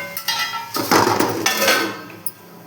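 A metal lid clatters onto a pot of village-style wild mushroom curry, with a cluster of clanks and scrapes followed by a single sharp clink.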